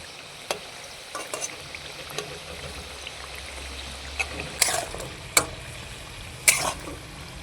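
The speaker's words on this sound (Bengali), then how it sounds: "বিস্কুটগুলোকে উল্টে পাল্টে ভেজে নিলাম" Atta biscuits frying in a pan, a soft continuous sizzle broken by sharp clicks and scrapes as they are flipped, several clustered toward the end.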